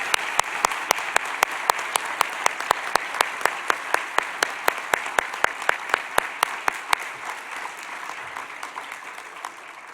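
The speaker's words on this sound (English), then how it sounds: "please join me in a round of applause" Conference audience applauding an award winner, a healthcare professional leadership honoree: dense, sustained clapping from a large crowd in a hall, steady for the whole stretch with distinct individual claps standing out.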